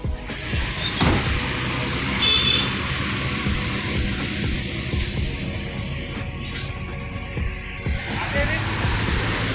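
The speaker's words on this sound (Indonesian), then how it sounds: "Bus melanjutkan perjalanan" An intercity PMTOH bus drives along the road, its engine a steady, loud rumble mixed with road noise and occasional knocks, and muffled voices sit faintly underneath.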